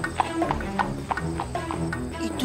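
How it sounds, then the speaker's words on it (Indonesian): Horse hooves clip-clop in a steady, even rhythm, close and clear, with a few faint animal-like calls mixed in, from an animated retelling of the legend Batu Belah. "Itu suara kaki kuda."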